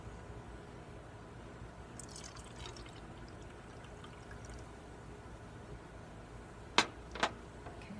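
Water pours into a glass for a science experiment, a soft, steady trickle and dribble heard close and fairly faint, ending with a couple of sharp clinks.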